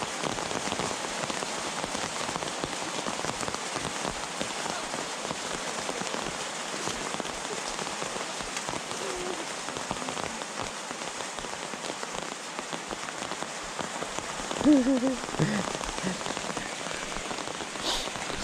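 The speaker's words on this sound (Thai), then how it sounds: "ฝนตกลงมาเลยทุกคน" Steady rain pattering on a surface, a continuous even hiss of drops with no voices, holding at a constant moderate level throughout.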